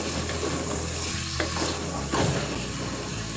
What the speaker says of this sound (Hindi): चिकन को अच्छे से हम ऑयल में भून लेंगे